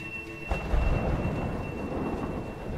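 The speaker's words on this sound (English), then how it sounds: "Let's time it with the thunder." Thunder in the video game A Way Out breaks after a quiet start into a low rumbling crack, followed by a steady wash of rain-like noise at moderate volume.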